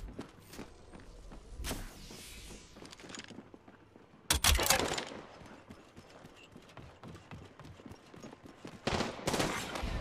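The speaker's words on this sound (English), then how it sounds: "They're shooting at me." Rapid bursts of enemy gunfire in a shooter video game, sharp cracks and rattling volleys at varying distances, with louder clusters near the middle and end.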